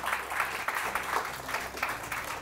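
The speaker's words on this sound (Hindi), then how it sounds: "मारूश के लिए बहुत सारी तालियां भी" Studio audience applause on a Pakistani morning TV show, steady and moderately loud, with no talk over it for a few seconds.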